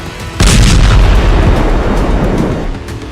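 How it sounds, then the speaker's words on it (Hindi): A sudden loud blast from a bomb explosion in a village in southern Lebanon, a heavy deep boom that hits hard and rolls away in a long rumbling decay over about three seconds. "और फिर कुछ सेकंड बाद हुआ दूसरा धमाका।"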